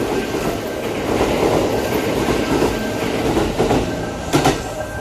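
Loud, close rumble of a Keihan Railway train rolling along rails toward Kyoto, with a steady roar and rhythmic clicking of wheels over track joints.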